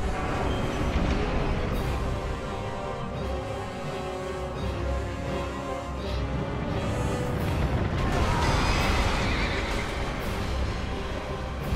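Two-headed horse creature in Dark Souls 2 neighing and whinnying over dense, busy game combat noise, with loud continuous rumble and clatter throughout.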